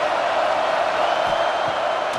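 Steady, loud stadium crowd roar from EA Sports College Football 26, a continuous wash of cheering fans behind a defense on a big third down, with no distinct breaks.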